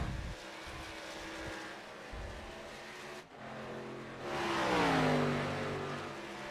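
Race cars in an ARCA Series sim racing game at Texas Motor Speedway drone steadily, with one engine note rising and sweeping past loudly near the end.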